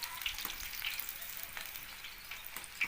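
Food frying in a pan during a family home lunch, a steady close hiss of sizzling oil with small crackles and faint stirring throughout.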